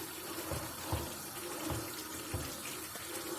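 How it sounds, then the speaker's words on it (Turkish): Sugar syrup poured into semolina halva in a home kitchen, giving a steady, close liquid pour with soft splashy bumps, no voices over it. "Şerbetin hepsini döktük"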